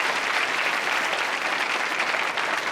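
Audience applause during a stand-up comedy set, a dense, even wash of clapping from the crowd, moderately loud and sustained without a break.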